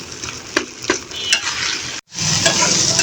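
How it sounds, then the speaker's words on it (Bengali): Pabda fish being stirred with spices in a pan, a constant oily sizzle broken by sharp scrapes and clinks of the spatula against the metal, one brief gap before the frying hiss resumes. "ভালো করে নেড়ে চেড়ে মশলার সাথে মাছটাকে মিশিয়ে দিই"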